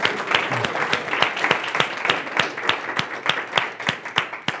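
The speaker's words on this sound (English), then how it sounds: "give these guys a round of applause" A small audience claps for two presenters at a business workshop, a sparse group whose individual claps stand out sharply in a quick, fairly regular rhythm over a few seconds.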